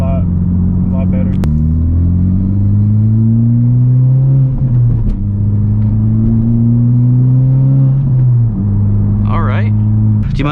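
A 2019 Honda Civic Type R in sport mode accelerates hard from inside the cabin, its engine note climbing steadily through gears with brief drops at each shift, loud and continuous, with occasional voices over it.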